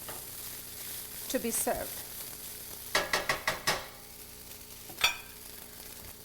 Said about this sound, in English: Saute it for another minute, and your sweet pepper rice is ready